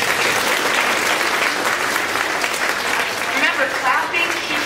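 Audience at a third grade school musical gives a warm round of applause for the teachers, dense steady clapping filling the room with a voice speaking over it near the end.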